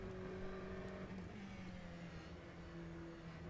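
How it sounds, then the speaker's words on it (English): A GTE race car in the rFactor 2 racing game drones steadily at sustained high revs, its engine tone wavering slightly as the gearbox whines underneath, heard alone at moderate level. "Nice gearbox noise though."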